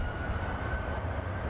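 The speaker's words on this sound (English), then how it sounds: "first we do have this United 757 taking off." United Boeing 757 airliner taking off at San Francisco International Airport, a steady, loud broadband jet engine roar with heavy low rumble, heard alone without voices.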